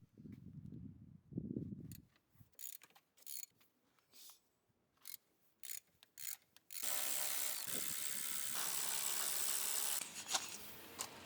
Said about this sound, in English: There are 3 bolts at the top of the suspension turret to undo, and the shock can be removed.